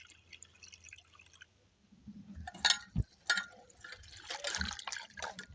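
Water is poured over rice flakes to wash them, splashing in uneven bursts, with faint trickling and a few drips between louder sloshes, close by.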